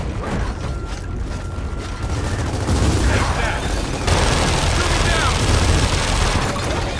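Sustained gunfire and heavy weapon bursts from the video game Gears of War 4, a dense, loud barrage filling the whole stretch with booming impacts, with some talk underneath.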